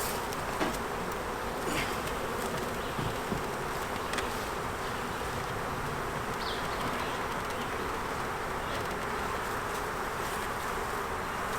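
Honey bees buzz continuously at an open hive during an inspection, a dense, steady, close drone from many insects with faint clicks and knocks of handling, and no talking.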